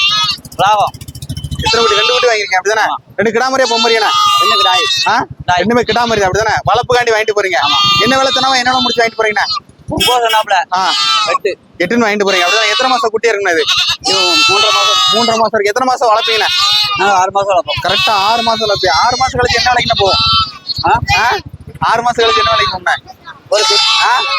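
Goats bleat loudly and almost constantly at the Melapalayam goat market, a busy, layered chorus of overlapping cries close by, with people talking among them.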